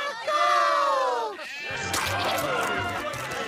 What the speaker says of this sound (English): What does she get? A goat!